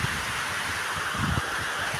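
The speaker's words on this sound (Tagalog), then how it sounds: "Pero napakalakas ng ulan." Steady, dense hiss of heavy rain pouring down without a break as a typhoon approaches, with no wind and no voices.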